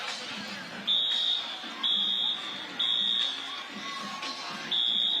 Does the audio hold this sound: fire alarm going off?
yes